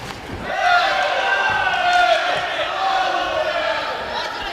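A packed boxing arena crowd at a World Boxing Cup final in Sheffield roars and cheers in a sustained, swelling wave. Shouts and whistles rise through the din.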